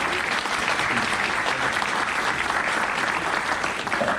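Audience applause at a SMPTE UK industry event at Atos in London, a sustained, even patter of many hands clapping from the room at moderate loudness.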